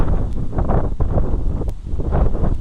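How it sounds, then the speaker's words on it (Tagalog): Gusty wind buffets the microphone in uneven bursts, with a soft rustle behind it and no talking. "Pakinggan ng simoy ng hangin."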